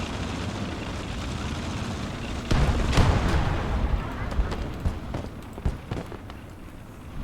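Mines blowing up under armoured tanks in a World War-style strategy battle game on a southern front, a dull rumbling blast followed by scattered thuds and crackles over a steady low background roar.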